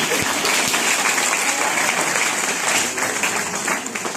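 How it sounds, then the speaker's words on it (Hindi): Sustained applause from a large audience at a network marketing seminar, dense steady clapping filling the room for several seconds, fairly loud and close, with faint voices underneath. "अरे तालियां बजाओ यार"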